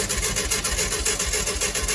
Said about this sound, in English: Go ahead and crank the motor over